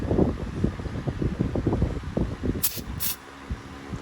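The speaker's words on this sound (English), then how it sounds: "I hit it with a little bit of electrical parts cleaner all the way around on all the terminals" Two short hissing sprays of electrical parts cleaner from an aerosol can onto the terminals of a 2012 Chevrolet Cruze turbo engine, close by, over a steady low mechanical rumble.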